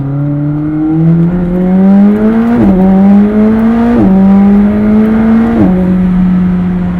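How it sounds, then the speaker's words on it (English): A McLaren 765LT engine revs loudly through repeated rising pitches with sharp drops at each gear shift, a strong exhaust roar throughout. "The sound is there. I hope you can hear this"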